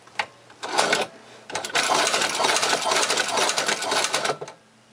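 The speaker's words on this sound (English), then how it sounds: "I could simply just spin it around and sew backwards." A low-cost leather shoe patcher sewing machine stitches backwards through two layers of leather, a rapid mechanical clatter running for about three seconds after a couple of short bursts, close and fairly quiet.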